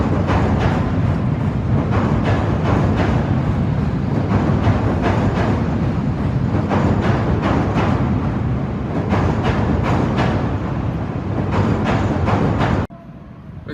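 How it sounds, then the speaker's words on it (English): An elevated Chicago subway train rumbles loudly along its tracks overhead, a dense, continuous roar with rhythmic wheel clatter lasting many seconds before cutting off abruptly. "This is cool how the subway tracks are elevated above the city streets."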